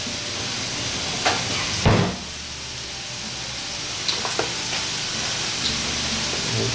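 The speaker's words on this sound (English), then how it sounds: "well that's sauteing" Large sea scallops and a mixed mushroom medley sauteing in a pan give a steady, moderate sizzle with a few brief louder pops and clatters of a utensil.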